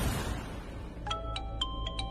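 A phone rings unanswered indoors, starting about midway with a faint, repeated electronic ringtone of short tonal pulses over a low background hum.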